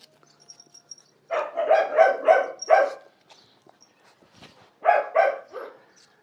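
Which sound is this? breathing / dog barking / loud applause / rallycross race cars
dog barking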